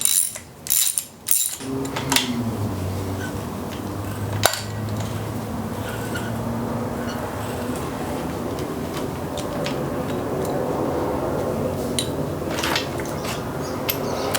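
A ratchet wrench works on the timing belt tensioner of a Ford Ranger truck engine during a garage teardown, giving steady mechanical clicking and metallic clatter at close range with no talking.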